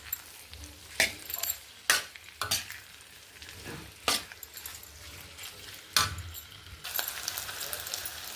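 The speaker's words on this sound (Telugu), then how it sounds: "పచ్చిమిరపకాయల పేస్ట్ కూడా యాడ్ చేసుకుందాం. మొత్తం కలిసేలాగా తిప్పుకుందాం." Potato curry with green chili paste being stirred in a pan, a spoon scraping and knocking against the metal in a series of sharp strokes over a soft, steady sizzle.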